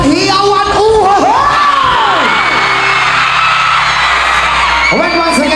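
A live crowd at an outdoor band show in E.B. Magalona cheers, whoops and yells loudly and continuously, with some shouting voices rising above the roar.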